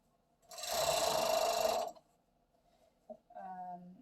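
A serger runs in a loud, steady burst of about a second and a half as it stitches a sweater romper seam from arm down the body, then stops, followed by faint handling clicks and a brief low voice-like hum.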